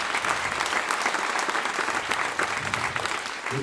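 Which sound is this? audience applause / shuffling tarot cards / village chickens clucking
audience applause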